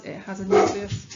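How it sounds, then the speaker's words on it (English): A dog barks once in the background while a man keeps lecturing, the short bark partly masked by his voice. "That's just my dog barking."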